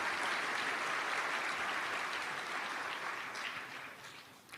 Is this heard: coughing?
no